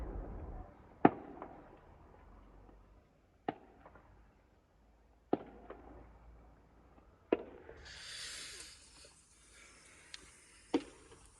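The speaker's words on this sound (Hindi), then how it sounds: "इतने सारे पटाखे फोड़ रहे हैं, पटाखों पे पटाखे।" Sharp Diwali-style firecracker bangs pop one at a time at irregular intervals, some distant, with a hissing burst of crackling partway through.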